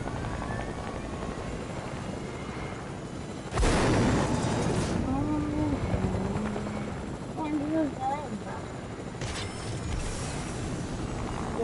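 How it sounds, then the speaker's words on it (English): A helicopter flying in the video game Fortnite keeps up a steady, loud rotor drone for the whole stretch, with sudden noisy bursts layered on top and players talking over it. "I'm coming with the chopper."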